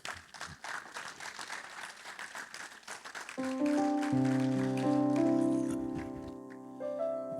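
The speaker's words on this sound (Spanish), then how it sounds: "Hoy tenemos a nuestra hermana Yolanda, vamos a recibirla con un fuerte aplauso." A church congregation claps steadily in a dense, continuous round of applause, then organ or keyboard chords swell in beneath it and sustain to the end.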